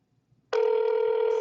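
A cell phone ring tone starts abruptly after a brief quiet and holds steady and loud, a bright electronic trill close to the microphone.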